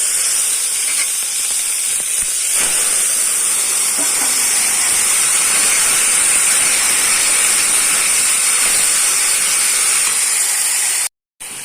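Panch phoron spices and green chillies frying in hot oil, a loud continuous sizzling hiss that stays steady throughout, with a brief dropout near the end.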